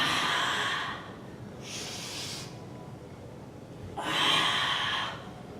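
Two forceful breathy exhales through the nose or mouth during a bodyweight ab workout, a short burst near the start and a longer, louder one toward the end, each hissing over a faint steady background.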